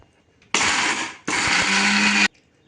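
A kitchen mixer grinder whirs through dry chutney powder in two close, loud bursts, a short pulse followed by a longer steady run, with near silence before and after.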